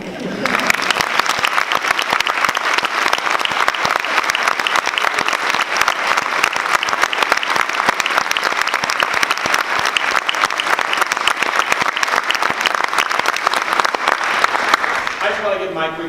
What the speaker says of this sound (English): Please, because two people clapping is really lame, please help Jeff and I thank you.